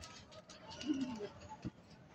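Racing pigeons flown out for light exercise; one soft, low coo rises near the middle, with faint rustling and a brief flutter-like thump after it, all fairly quiet.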